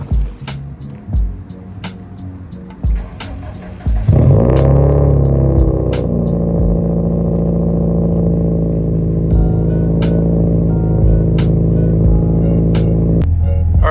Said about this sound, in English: get a nice cold start going for you